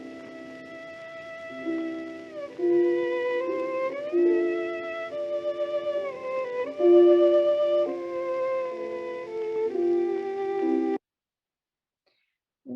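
Solo violin in a historical recording by Eugène Ysaÿe, a sustained melodic line with audible portamento slides between notes, played alone for about eleven seconds before cutting off.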